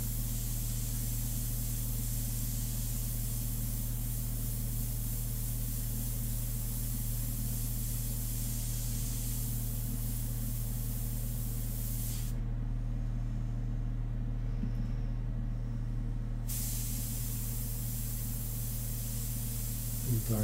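An airbrush spraying India ink gives a steady, close hiss under a constant low hum, with the spray briefly stopping partway through before resuming.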